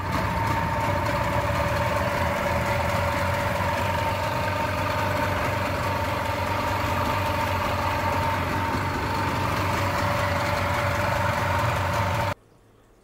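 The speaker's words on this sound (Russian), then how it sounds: "Мы запустили мотор без редуктора." A Yamaha 9.9D outboard boat motor, run without its gearbox, idles steadily with a constant hum and droning tone, loud and close, then cuts off abruptly near the end.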